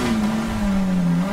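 Small Maruti 800 hatchback engine revving steadily in GTA 5, a continuous mid-pitched drone that sags slightly in pitch, heard alone and close.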